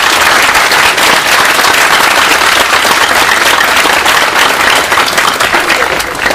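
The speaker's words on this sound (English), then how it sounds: "But one more round of applause for Carlton." Dense, loud applause from a large audience at a bust dedication ceremony, steady continuous clapping filling the room throughout.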